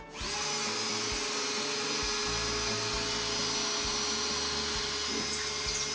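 A power drill whines steadily into a plasterboard interior wall in a home in England, loud and close, holding one continuous pitch with a brief catch near the end and no talk over it.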